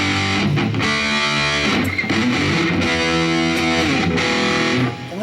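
Heavily distorted electric guitar through a BOSS eBAND JS-10 plays loud, sustained chords and riffs without pause, with no voice over it.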